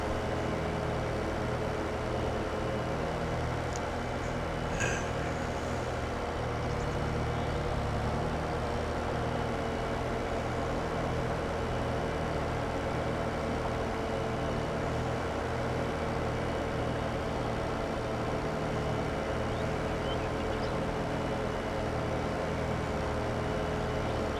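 A tractor engine in Farming Simulator 22 drones steadily through a field-cutting pass, a low continuous rumble holding an even level throughout with no speech.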